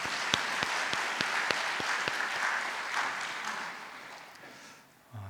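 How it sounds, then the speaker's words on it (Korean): A church congregation applauds during a Sunday worship service, with steady mid-distance clapping that carries on for several seconds and then fades away toward the end. "하나님께 영광의 박수하겠습니다"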